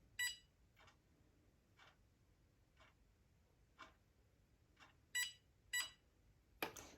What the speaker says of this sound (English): Let's do 10 seconds, or just until it beeps and beeps again.